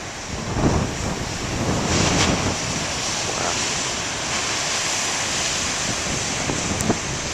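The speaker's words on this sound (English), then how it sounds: "I can hear a bunch of waves coming" Ocean surf rolls and crashes continuously, a broad roar of breaking waves with some wind buffeting the microphone, no voices.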